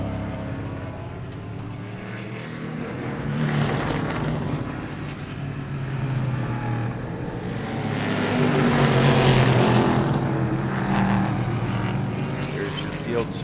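Pack of race cars at Sebring passing on track, engines swelling from a distant drone to a louder roar and fading, with a second surge later, under a commentator's steady talk.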